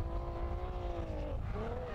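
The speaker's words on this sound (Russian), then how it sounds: "Опять что-то происходит с двигателем у Феликса Чепахаяна. Слышим мы, как не работает у него пару цилиндров." Drift car at a Russian Drift Series pro-am round in Saint Petersburg, its engine running rough with a couple of cylinders dead, a loud uneven sputtering drone that holds steady throughout.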